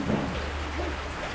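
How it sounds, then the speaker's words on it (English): Heavy rain pours steadily and loudly in a wide, continuous hiss with a low rumble beneath, filling the short stretch without pause. "Guys, you see, it's a lot of rain."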